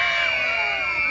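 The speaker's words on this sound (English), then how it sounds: "Scream just as loud as you can" Crowd of spectators at a bird of prey display at Knowsley Safari screaming together as loud as they can, a sustained, dense mass of shrill voices from start to finish.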